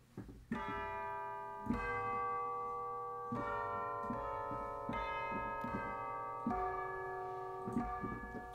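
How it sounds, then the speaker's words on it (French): Software-sampled tubular bells ring out in a slow sequence of struck tones, each chime sustaining with a long shimmering decay that overlaps the next. "ici tubular bells, les cloches tubulaires."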